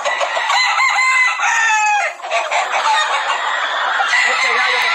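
A rooster crows loudly and close, then clucking and other chicken calls follow, overlapping in a busy farmyard chorus.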